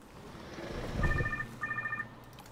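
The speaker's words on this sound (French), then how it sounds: "C'est quoi ce téléphone?" A telephone rings inside the dinosaur park game Jurassic World Evolution 2, with two clear electronic ring bursts separated by a short gap over a quiet background.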